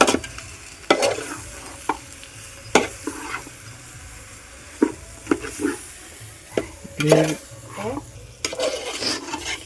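Chicken for biryani being stirred in a frying pan, with steady sizzling under repeated scraping and rubbing strokes of a spoon against the pan, close and continuous, without talk.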